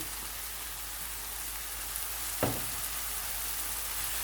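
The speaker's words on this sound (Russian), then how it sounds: "Теперь отправляю колбасу." Sausage frying in a hot pan for a French-style vegetable omelette: a steady, close, crackling sizzle throughout, with one brief sharp clatter partway through.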